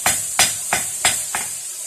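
Blacksmith's hammer striking hot metal while forging meat skewers: five sharp, ringing blows at a steady, even pace, loud and close with no talking.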